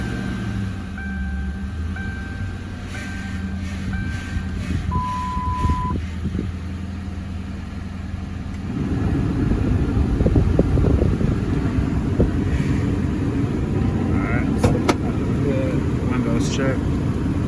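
A used car's engine runs at a low steady hum at first, then a louder, rougher rush of engine and wind noise takes over in the second half, with no talking.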